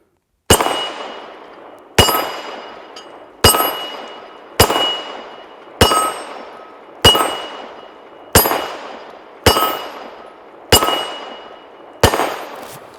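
Ten evenly spaced pistol shots from a Canik TP9 SFX firing reloaded ammunition, each a loud close crack followed by a ringing metallic clang from steel targets that decays before the next, about one every 1.4 seconds.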